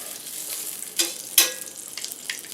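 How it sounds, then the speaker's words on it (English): Clarified butter melts with soft sizzling in a hot pan, a couple of sharper crackling bursts, steady and close, no voices. "I like clarified butter for my frying."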